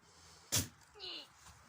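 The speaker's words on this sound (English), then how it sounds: "Well, that was quite the sneeze." A single sharp, explosive sneeze bursts out, followed by a brief higher-pitched vocal sound, with quiet background otherwise.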